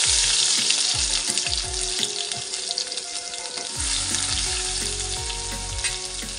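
Cumin, mustard seeds and garlic sizzle and crackle in hot oil for an okra stir-fry, a loud, steady fizz punctuated by repeated low thumps and spatters, with no talk.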